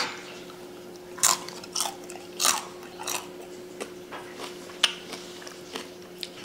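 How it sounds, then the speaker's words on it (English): Loud crisp crunches from biting into the crackly fried skin of a German pork shank, a few sharp bites followed by slower chewing crackles, close up with a faint steady hum behind. "get a piece of that crunchy skin. Just listen to this."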